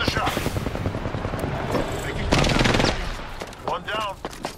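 Apex Legends gunfire in a PS4 duos match: a rapid rattling string of shots, then a few heavier single blasts, with a voice talking briefly near the end.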